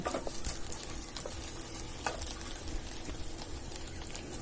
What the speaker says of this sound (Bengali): টমেটো পেস্ট দিয়ে দেওয়ার পরে আরও কিছুক্ষণ ধরে মশলাটা ভালো করে ভেজে নেব